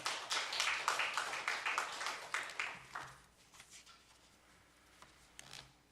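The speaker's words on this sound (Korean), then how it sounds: "하나님께 영광의 박수 돌리겠습니다." A church congregation at a Korean Sunday worship service claps in praise, a brisk run of loud hand claps that fades after about three seconds into scattered faint claps and a quiet hall.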